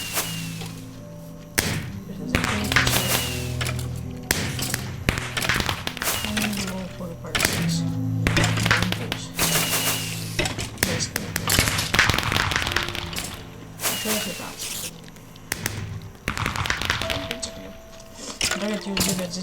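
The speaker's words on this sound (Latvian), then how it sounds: "Lūk, pirmā raķetīte. Lūk, otrā raķetīte." Firework rockets launching and bursting in Minecraft, a dense run of sharp cracks, thumps and whooshes over steady game music, with someone talking throughout.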